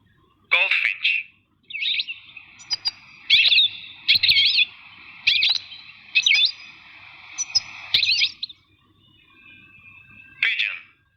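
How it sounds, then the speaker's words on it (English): A goldfinch sings a series of bright, high chirping phrases in short bursts separated by brief pauses, clear and close with no talking. "goldfinch"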